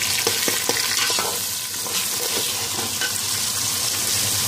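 Chicken fries in a pan with ginger garlic paste while being stirred, a constant close sizzle broken by scraping strokes of the spoon, with no talking.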